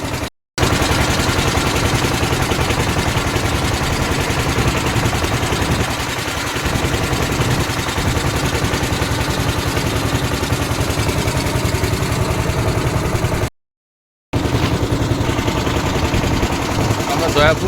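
A motorboat engine chugs loudly and continuously in the rain on a Sundarban waterway, a rapid rattling drone that drops out briefly twice, with a voice faintly present beneath it.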